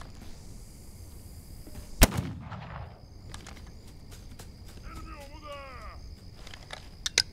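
A gunshot cracks loudly in the video game This Land is My Land, one sharp report with a trailing echo, followed by quieter shots and clatter over a faint outdoor ambience.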